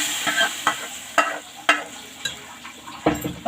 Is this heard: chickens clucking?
no